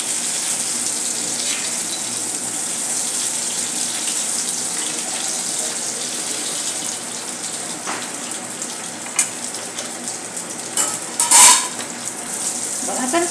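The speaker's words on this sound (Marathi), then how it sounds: "अशा प्रकारे आपण तळून घेतोय।" Bombay duck fish fry in hot oil in a pan, a steady, close sizzling hiss throughout with a few brief clinks and splatters near the end, no talking.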